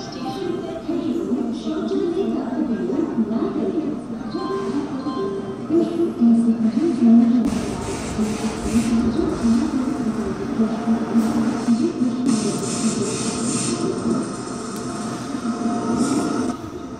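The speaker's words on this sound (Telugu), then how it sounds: "చూడండి, మన ట్రైన్ కూడా వచ్చేస్తుంది." A train pulls into a station near Vijayawada, with a low heavy rumble of wagons rolling past, rising metallic clatter and squeal as it comes in close and loud, and faint voices on the platform.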